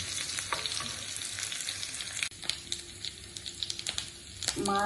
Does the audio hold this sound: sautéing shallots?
yes